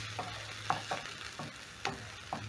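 Onion browning in a pan for a tilapia fish stew, with quiet intermittent stirring scrapes over a soft steady sizzle, no talking.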